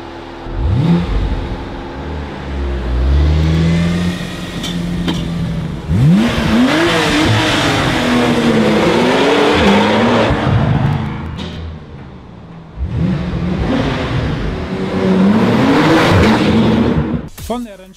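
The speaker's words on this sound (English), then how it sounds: "if you want to enjoy the sound of the engine, you need a tunnel" Inside a tunnel, a 2014 Porsche 911 Turbo S (991) engine revs hard in repeated bursts. The sweeping pitch rises and falls, echoing loudly off the walls, with a brief lull between runs.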